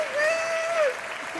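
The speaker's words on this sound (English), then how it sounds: "please rise so everybody can give you a round of applause and the recognition that you need" A graduation celebration crowd applauds its rising staff, dense clapping filling a short stretch while a cheering voice rings out above it.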